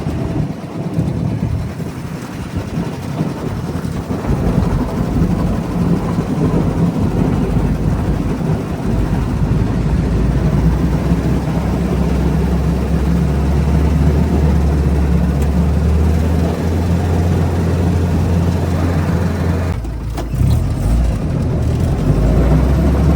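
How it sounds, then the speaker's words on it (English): A Willys Jeep CJ3b engine runs steadily as it plows snow down a driveway in cold Ohio weather, a loud close continuous low rumble with rising revs and a brief dip near the end. "I don't need to plow the driveway, but I'm gonna plow the driveway"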